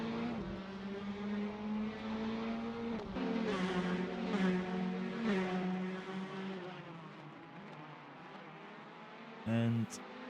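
Race cars in a racing video game roar around the Daytona banking, a steady engine drone with rising and falling pitch from several cars and a brief sharp burst near the end, under commentary.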